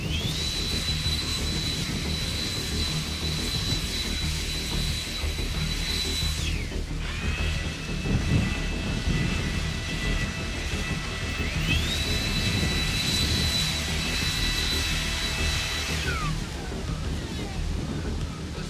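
An Aoetree battery leaf blower runs on its low setting, giving a steady whining whoosh with a high tone that shifts and drops a couple of times, moderately loud throughout with no talk.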